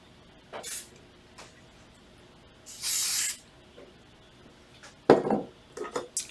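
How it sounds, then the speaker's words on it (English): Pro Spray, a sublimation spray, sprayed onto a metal blank in bursts: a short hiss, then a longer, louder hiss lasting about a second, followed by handling clatter and taps. "we're going to use a little bit of Pro Spray"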